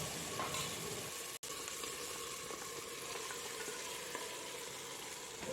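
Mutton drops into an onion and tomato masala that has released its oil, giving a steady, dense sizzle and crackle of frying that carries on almost unbroken.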